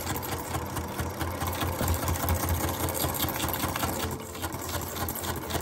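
A sewing machine stitches through pleated paper for ruffled junk-journal ephemera, running steadily and close for several seconds with a continuous mechanical whir and rapid needle chatter.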